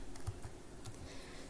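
Computer keyboard keys pressed in a short Ctrl Tab combination, giving a few quiet, close clicks and taps over a faint background hum.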